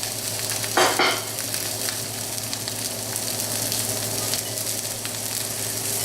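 Shrimp dropped into a pan of hot virgin olive oil give a sudden loud burst of sizzling that settles into a steady, close frying hiss with crackles, no one talking.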